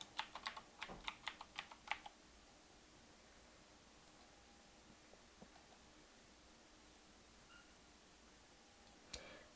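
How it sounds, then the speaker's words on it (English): Quick burst of keystrokes on a computer keyboard, a rapid cluster of clicks in the first two seconds, then near silence with a faint stray click or two before one final tap at the end. "And let's type invoice."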